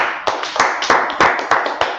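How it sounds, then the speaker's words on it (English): A small gathering at a religious talk claps in a brisk, fairly regular rhythm, a handful of close, sharp hand claps in unison repeating about every third of a second. "Let's clap it up for the Lord"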